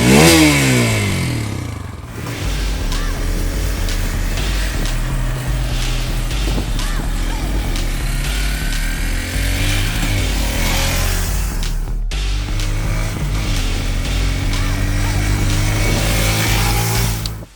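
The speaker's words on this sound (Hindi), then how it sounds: "तो प्रायोरिटी नंबर 1, एग्जॉस्ट नोट कैसा है।" A Hero Xtreme 160R 4V motorcycle's exhaust sounds out loud and close, a steady, throaty engine drone with revs rising and dipping, a brief cut, then continuing.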